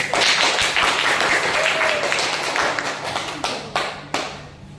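Classroom applause after a group presentation: a dense, steady patter of many hands clapping close by, thinning into a few scattered claps near the end, with no talking.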